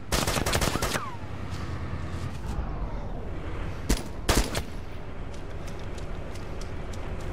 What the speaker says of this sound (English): Shot the guy with the Vodnik. Shot the second guy.